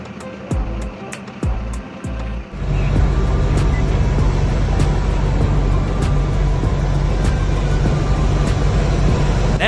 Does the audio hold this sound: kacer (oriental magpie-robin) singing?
no